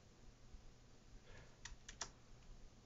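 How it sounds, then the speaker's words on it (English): A few quick keystrokes on a computer keyboard, typed while coding a Python program, come as soft, close clicks in two short bursts over a faint room hiss. "So now I'm going to type hello."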